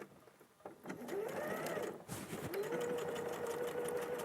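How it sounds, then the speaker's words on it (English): A sewing machine stitches elastic onto a fabric pocket, running in a steady continuous whir that starts around the one-second mark and holds close and clear to the end, with faint talk in the background. "I'm going to stitch it in at the opposite end."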